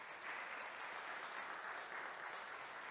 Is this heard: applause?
yes